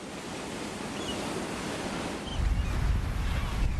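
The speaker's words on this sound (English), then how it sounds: "working the edge of the rocks as the waves crash over" Sea waves surge and crash against the rocky edge of a seabird island, a steady broadband wash with wind noise that swells louder in the final second and a half.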